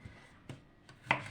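A knife slicing cucumber thinly on a cutting board for a salad, a few sharp separate cuts with quiet gaps between them, close and fairly soft.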